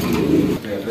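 Pigeons cooing from cages at a wholesale pigeon market, a short low throaty coo that is close and fairly loud against the market background.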